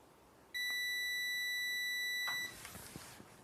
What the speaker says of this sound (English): Here's a quick demo, just doing continuity.